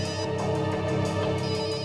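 A mobile phone rings steadily with a sustained tonal ringtone, from a mother calling during a CID TV episode scene, continuous for the whole moment with no talking.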